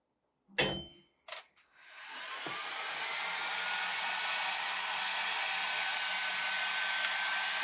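After a couple of brief knocks, a hair dryer switches on at its lowest setting and runs as a steady, continuous whoosh for several seconds, drying handmade rustic Christmas ornaments.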